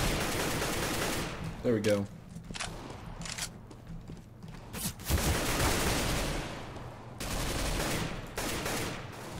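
Bursts of rapid gunfire from the PC game CS:GO, loud and close, with short volleys separated by quieter gaps; a voice speaks briefly over the shots.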